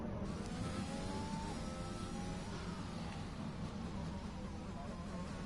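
A McLaren Formula 1 car's engine on a hot lap at the Spanish round of a racing game, a steady, loud high-revving drone with rising whine sweeps running continuously throughout.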